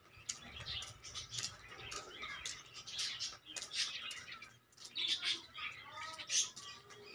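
Pigeons nearby, faint bird chirps and calls repeating in short clusters over a quiet background, with soft flutters now and then.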